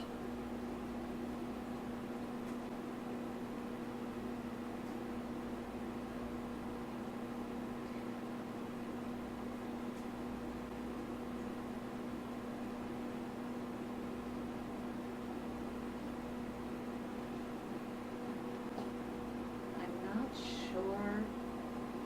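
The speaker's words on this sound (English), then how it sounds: "The air conditioners are on, fans are on" A steady mechanical hum with a constant droning tone and a wash of airy background noise, running evenly throughout like fans and air conditioning indoors.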